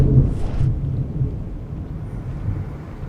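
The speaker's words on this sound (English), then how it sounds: "Rain is coming down." Low, rumbling thunder rolls under a steady wash of rain in the video game Werewolf: The Apocalypse - Earthblood, a heavier boom early on fading into continuous storm noise.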